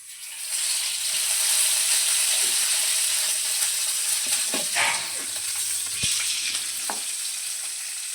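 Curry leaves, chillies and onions fry in a pan, making a continuous near sizzle with scattered crackles and pops and occasional stirring clinks.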